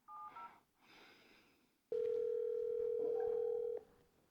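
An outgoing phone call: a few soft beeps, then a single steady ring tone that holds for about two seconds before cutting off to near silence.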